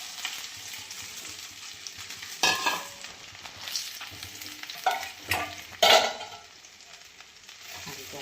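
Washed broccoli stirred in a pan with a little oil for a Gujarati broccoli paneer sabji: a steady close sizzle with several louder scraping stirs of the spatula, no talking.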